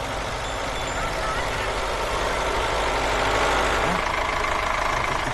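A tractor engine idles with a steady low rumble and a faint repeating beep, while voices talk over it.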